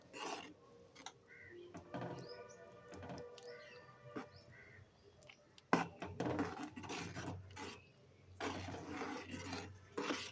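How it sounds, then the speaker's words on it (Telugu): A spoon stirs saag in a pan, giving close, irregular scrapes and clatters that come in short bursts, with busier stretches near the start and toward the end. "ఇవన్నీ వేసుకున్న తర్వాత ఇప్పుడు మిక్స్ చేసుకోవాలి."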